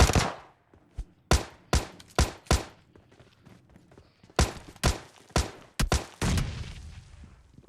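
Kar98 rifle fire in a shooting video game, a series of about a dozen sharp, loud, evenly spaced shots in two bursts, ending with a longer noisy burst.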